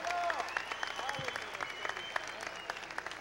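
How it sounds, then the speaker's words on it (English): A church congregation claps together in sustained, rhythmic applause, moderately distant, with a few voices calling out over the clapping. "Let's give up a big Jesus hand clap."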